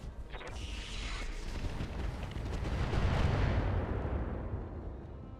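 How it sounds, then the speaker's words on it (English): A mech in the BattleTech Roguetech video game fires all weapons at once: a dense barrage of booming shots and rumbling blasts that builds into a heavy roaring wall of explosions lasting several seconds. "Firing all weapons."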